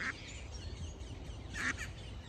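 Ducks being fed in London give a couple of short nasal quacks, one near the start and a pair a little later, heard faintly against a low outdoor rumble.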